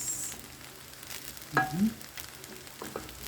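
Chickpeas hit a hot pan and sizzle quietly, with a brief clatter and a louder hiss at the moment they drop in, then a low frying crackle and a light stir afterward.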